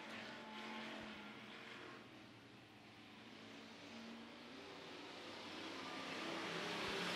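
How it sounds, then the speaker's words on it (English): Hobby stock race cars circle a dirt oval at El Paso County Raceway during the main event, a faint, distant, continuous engine roar with a slowly swelling wash of noise. "Nelson and Rhodes work around the lap traffic"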